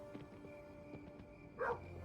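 A dog in the game Kingdom: New Lands gives one short, sharp bark near the end, rising over steady background game ambience.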